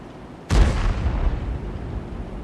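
A high-explosive tank round bursts against a tank in a video game: one sudden, loud boom with a deep rumbling tail that stays heavy for about two seconds.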